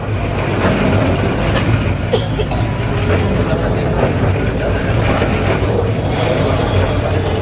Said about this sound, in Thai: มีรถรางสวนกันได้ด้วยครับ